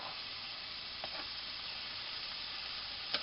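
Onion frying in a hot pan for sloppy joes, a soft continuous sizzle and hiss with a couple of faint clicks of stirring, quiet and steady with no talk.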